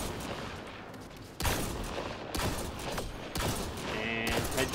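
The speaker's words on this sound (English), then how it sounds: "Alright, I'll get my sniper out here." Sniper rifle fire in Mass Effect Andromeda, heard as two sharp, loud reports about a second apart over a busy background of game ambience and effects.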